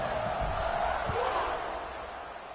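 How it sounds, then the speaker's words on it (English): Stadium crowd noise at kickoff in the College Football 26 video game, a steady broad roar of many fans with a few brief thuds, continuous and fairly loud throughout. "They're set to kick it off, and this crowd now ready to get behind them."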